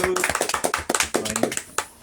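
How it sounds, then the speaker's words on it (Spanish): A small audience at a library literary podcast claps for a student writer, with distinct hand claps close by mixed with a person talking over them. "Un aplauso por favor."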